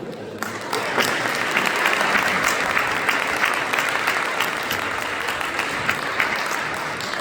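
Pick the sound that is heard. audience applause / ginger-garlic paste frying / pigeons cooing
audience applause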